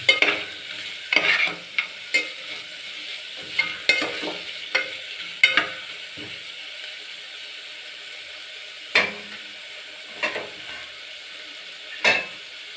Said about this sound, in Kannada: ಸ್ವಲ್ಪ ಲೋ ಫ್ಲೇಮನ್ನು ಇಟ್ಕೊಂಡು ಮಿಕ್ಸ್ ಮಾಡಬೇಕು.